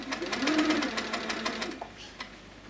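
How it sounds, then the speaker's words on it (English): An HQ Sweet Sixteen sewing machine stitches binding onto a quilt in a quick, pulsing run of needle strokes, then stops, leaving a quiet room with a soft click. "I actually stitch back off the edge of the quilt."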